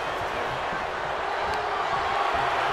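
A steady wash of arena crowd noise fills a WWE 2K24 match between Roman Reigns and Solo Sikoa, an even, continuous roar with faint scattered thumps and a commentator's voice underneath.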